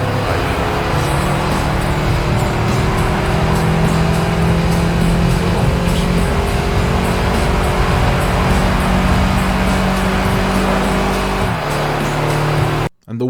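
Engine of a racing car in Gran Turismo 3 drones steadily at high revs for most of the stretch, loud and close with a sustained tonal hum, then cuts out abruptly at the very end.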